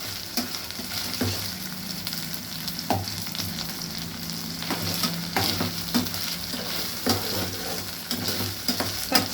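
Spice paste fries in a hot pan until its raw smell cooks off, making a dense, continuous sizzle with frequent stirring scrapes and soft spatula knocks, close and steady throughout.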